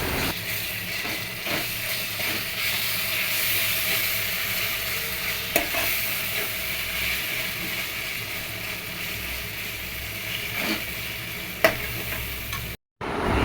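Ginger garlic paste frying for a keema curry, a steady close sizzle with occasional scrapes of a spoon stirring in the pan, continuous and without talk.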